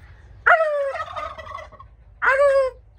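A farm turkey gobbles twice, a loud, close rattling burst followed by a shorter second call, with quiet outdoor background between them.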